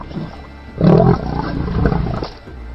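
A lion roars loudly while fighting a crocodile, a short burst of deep, rasping growls that swells to full force and then rumbles on in a sustained snarl close by, with no talk.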